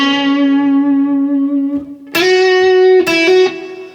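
An electric guitar through an MXR Duke of Tone distortion pedal sustains a held note, then strikes two more sharp, gritty notes that ring out with a buzzing, harmonically rich tone; no voices.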